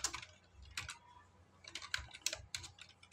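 Quick bursts of computer keyboard typing while writing Arduino code, clicks arriving in uneven clusters with short pauses between, close and fairly quiet.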